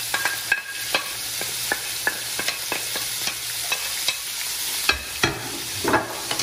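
Onions and garlic fry in a pan while a spatula stirs them, giving a steady close sizzle broken by frequent sharp scrapes and clicks of the spatula against the pan.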